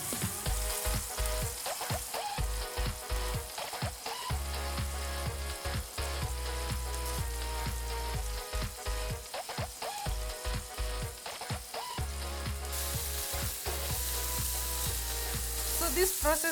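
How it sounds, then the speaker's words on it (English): Flour-coated fish fillet sizzles steadily in hot oil, a dense crackling fry with scattered pops and light stirring clatter, close and constant with no talk. "So when you're frying it, it does not break also."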